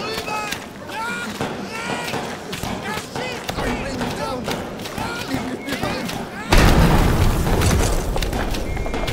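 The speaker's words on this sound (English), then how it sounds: "but that didn't account for scripted explosions." Scripted explosions in the WWI horror game Amnesia: The Bunker: a run of deep booms and thuds over a dense game soundscape, ending in a sudden loud burst that lingers as a rumbling roar.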